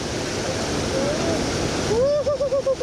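Cold mountain river water rushes steadily in Spiti Valley, a loud broadband roar close by, with voices calling out over the flow and rising toward the end.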